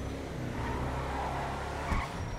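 A lowered BMW X5 drives in GTA V Online, its engine a steady broadband rumble with a brief tire squeal or skid near the end, no talk over it.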